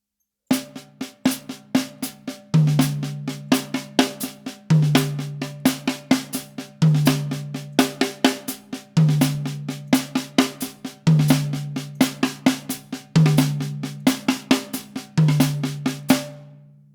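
A nine-note drum sticking pattern played slowly and evenly, repeating phrases of crisp stick hits with deeper drum strokes at the start of each group, close and clear.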